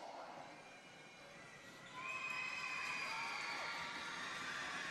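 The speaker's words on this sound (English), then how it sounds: "Noisy Bulleen crowd" A full-house crowd fills the hall at a Bulleen vs Camberwell basketball grand final in East Doncaster, a distant murmur that swells noticeably louder partway through and holds there.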